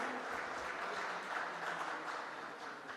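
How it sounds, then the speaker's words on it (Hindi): An audience at the Haryana Vision 2024 event welcomes a guest with steady applause, a continuous dense patter of many hands, moderately distant and unbroken for several seconds. "ज़ोरदार तालियों से स्वागत कीजिए माधविका हंस साहिबा की"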